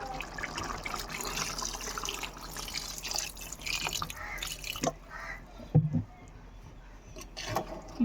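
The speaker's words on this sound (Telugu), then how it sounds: "కూర ఉడకడానికి సరిపడగా నీళ్ళు అయితే వేసుకోవాలి" Water pours steadily into a pot of beef curry for about five seconds, then trails off into a few scattered drips and splashes, heard up close.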